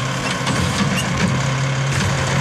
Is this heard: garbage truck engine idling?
yes